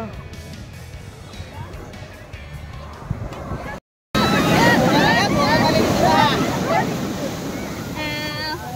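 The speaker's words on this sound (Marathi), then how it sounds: "लाटा येत आहेत." Ocean waves rushing and breaking on Kovalam Beach amid strong wind buffeting, with voices faintly mixed in, after a short gap.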